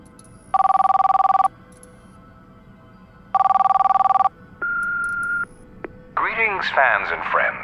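A telephone rings twice in long electronic bursts, followed by a shorter beep tone before a recorded voicemail greeting begins, all clear and close with no talk over the rings.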